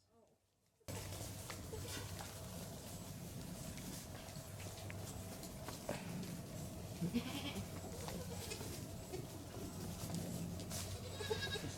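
Dairy goats bleat intermittently over a busy outdoor background, with people talking nearby and a steady low hum.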